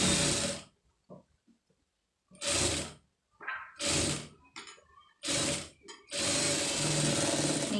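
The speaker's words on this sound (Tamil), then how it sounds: "திருப்பிட்டு இந்த கரெக்டாக அந்த ஒட்டில் ஒரு தையல் போட்டுருங்க." A sewing machine stitches a seam on an embroidered blouse in short, loud bursts of rapid mechanical chatter, with quiet gaps of fabric handling between runs and a longer steady run at the end. The machine is close, with no talking.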